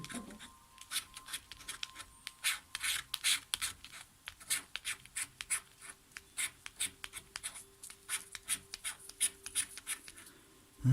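Coins scraping FDJ scratch-off lottery tickets from a full booklet, a run of short, dry rasping strokes repeating irregularly close up, with faint low voice in the background.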